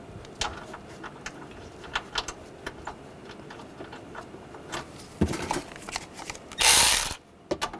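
Bolts are run down and tightened while an AC serpentine belt is replaced on a 2015-2020 Ford F-150 with a 3.5L V6, giving a ratchet's quick rapid clicking bursts up close and ending in a short loud metallic rattle.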